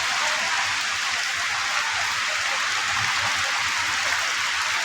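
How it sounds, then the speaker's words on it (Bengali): Heavy rain pours in a steady, dense hiss of drops striking surfaces, even and unbroken for the whole stretch at moderate loudness, with no talking. "আমাদের অঞ্চলে অনেক জোরে বৃষ্টি হচ্ছে।"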